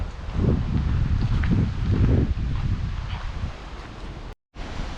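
Steady wind gusting and rustling through foliage outdoors, a broad continuous whoosh with swelling bursts, cut off briefly near the end.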